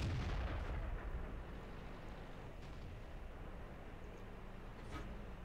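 Tank gun fire in World of Tanks from a WZ-132 Chinese light tank: a deep booming report opens the moment, then a low rumbling tail with faint distant echoes, fairly quiet overall and without talk.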